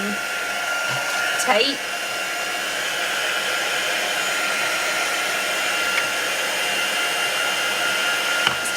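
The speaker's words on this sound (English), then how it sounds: "So, heat tool, get a bit of heat on it." A handheld heat tool blows hot air onto washi tape in a steady, loud whirring rush that runs the whole time, with a brief spoken word near the start.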